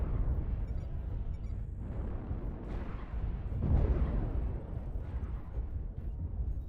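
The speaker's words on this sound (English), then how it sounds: "Artillery strike online" Artillery strike explosions in the video game MechWarrior Online, a series of deep, rumbling booms rolling over one another with a heavier blast near the middle, moderately loud with no talk.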